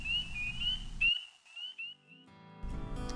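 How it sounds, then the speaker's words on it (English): Spring peeper frogs call at night from dark water at Jiggs Landing on the Braden River, giving a series of high, thin, birdlike peeps. The calls are fairly faint and sit over a low rumbling background that cuts in and out. "spring peepers emerge and produce a cacophony of peeping calls that sound like little birds calling"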